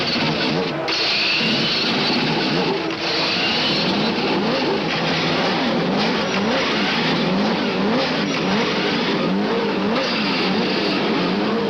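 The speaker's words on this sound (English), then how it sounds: "the Indy cars roar into life" A full field of 1992-season Indy race cars idling and revving together at the Laguna Seca racetrack, a loud sustained mechanical roar with wavering engine pitch throughout.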